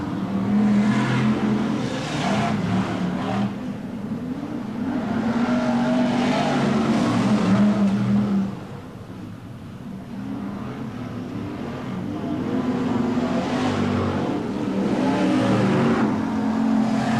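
BriSCA Formula 1 stock cars racing at Kings Lynn in 1993, engines roaring and revving continuously as cars circle the track, swelling and dipping as they pass, loud and fairly close.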